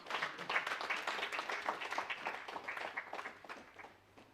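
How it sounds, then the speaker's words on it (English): Steady audience applause fills a memorial service hall, dense and continuous, fading slightly toward the end with no talk over it. "A hand of applause for Ndibudzanyi Emelina Sigogo,"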